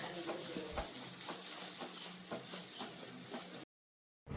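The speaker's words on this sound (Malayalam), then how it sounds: "നല്ലതുപോലെ ആ കളറ് ഇതിൽ മിക്സ് ആക്കി കൊടുക്കണം കേട്ടോ." Homemade toilet cleaner liquid being stirred steadily after colour is added, a continuous swishing with soft repeated scrapes at a regular rhythm, close and moderately loud, ending abruptly in silence.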